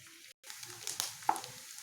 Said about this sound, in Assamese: পিঁয়াজখিনি প্ৰায় গোল্ডেন ব্ৰাউন হোৱালৈকে আমি ইয়াত ভাজিম